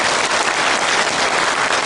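Dense, steady applause from a large lecture audience honoring elderly people born in the 1920s, loud and continuous without pauses.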